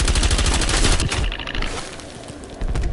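Rapid automatic gunfire from a video game, loud and close, a dense burst of shots for about a second followed by scattered bursts and a fresh volley near the end.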